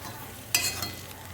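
A cabbage chop sizzles quietly in hot oil, with a short scraping stir partway through as it is flipped, and a softer clatter after it.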